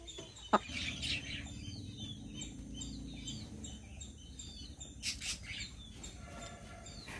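A chicken receiving an injection as treatment for white diarrhoea clucks and chirps nervously, with a sharp knock early on and steady close fowl sounds throughout, no talking.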